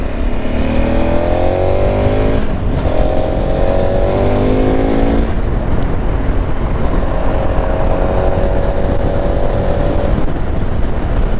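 KTM Super Adventure 1290 motorcycle pulling hard through the gears on a dual carriageway, engine note climbing in repeated rising sweeps over steady, loud wind rush.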